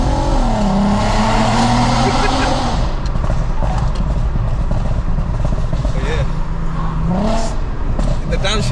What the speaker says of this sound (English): The downshifts are amazing, aren't they?